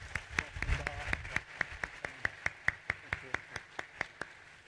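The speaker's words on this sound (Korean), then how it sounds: "오늘 귀한 찬양으로 영광 돌려주신 시온 찬양팀에게도 감사의 박수로 한번 축복해 주세요" A church congregation claps for the worship team at a Christmas service. Sharp, evenly spaced claps come at a steady rhythm, sounding like a few close hands more than a full crowd, with a brief voice early on.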